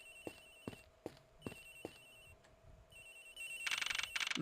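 Phone in the Ace Attorney Investigations game ringing in short repeated electronic trills, steady and fairly close, followed by a brighter, louder rapid chiming burst at the end, with no talking.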